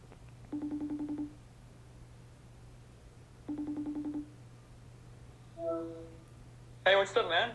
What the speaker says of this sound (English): tap on their name, like so, and the phone will begin ringing.